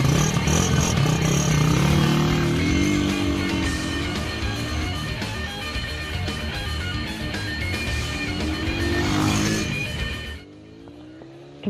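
A Suzuki Raider motorcycle accelerates hard from a standstill toward 60 mph, its engine note rising through several gear changes in loud, close sweeps before cutting off abruptly near the end.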